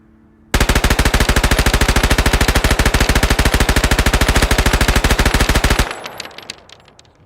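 A gun in the factory-building video game Satisfactory fires a long, rapid, unbroken burst of loud automatic shots for about five seconds, then stops abruptly, leaving fading echoes and clatter.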